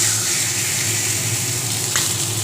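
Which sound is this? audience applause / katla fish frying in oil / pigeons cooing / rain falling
katla fish frying in oil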